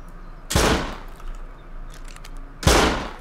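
Two loud, sharp gunshots in the survival game Rust, spaced about two seconds apart and each with a short echoing tail, ring out over quiet background noise.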